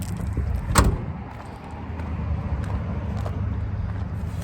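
The hood of a 1980 Ford F100 truck is popped with a single sharp metallic clunk near the start, followed by low outdoor background rumble and faint ticks.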